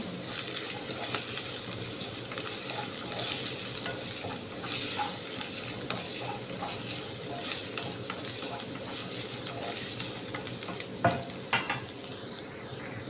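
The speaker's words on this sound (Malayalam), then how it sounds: "ഒരു പത്ത് ചെറിയ ഉള്ളി ഇട്ട് കൊടുക്കാം ചെറുള്ളി നന്നായിട്ടൊന്ന് വാടി വരട്ടെ" Small shallots sauté with curry leaves in a hot pan for a squid roast. A steady sizzle and crackle runs close up throughout, with scraping stirs that grow louder near the end.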